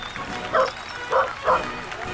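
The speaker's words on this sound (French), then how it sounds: "Teddy, enfin, qu'est-ce qui te prend d'aboyer comme ça" A dog barks three times in short, spaced bursts over a steady background hum, sounding a little distant.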